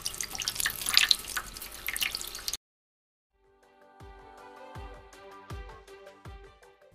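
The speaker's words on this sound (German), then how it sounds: "das vorsichtige Abspülen mit Wasser" Water rinses penetrant dye from a test surface: a burst of running, splashing water for about two and a half seconds, then a pause and a series of distinct drips falling at an uneven pace.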